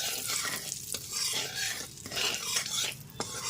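Salt and turmeric powder are being stirred into hot oil over a low flame, with a soft steady sizzle and repeated scraping strokes of a spoon against the pan.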